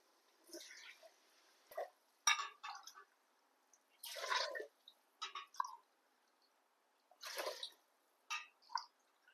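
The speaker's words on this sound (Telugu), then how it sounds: "8 గ్లాసులు వాటర్ వేసుకుందాం" Water poured in several separate glassfuls into a pot of rice being prepared for bagara rice, each pour a short, faint splash with quiet gaps between them.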